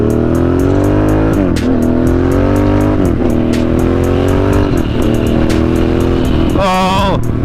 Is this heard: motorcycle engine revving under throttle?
yes